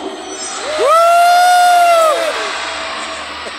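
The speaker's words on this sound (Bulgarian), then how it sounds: "А сега да пробваме да викнем още по-силно, защото той се храни с вашите викове и вашата енергия." Audience at a Hot Wheels Monster Trucks Live glow party show, a faint crowd murmur that swells into a loud sustained shout and cheer for about a second and a half, then fades back down.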